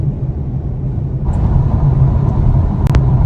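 A car, apparently a Polestar 2, cruises down Interstate 85 in Georgia with a loud, steady road and tyre rumble inside the cabin, swelling slightly midway, with a couple of brief clicks near the end and no talk.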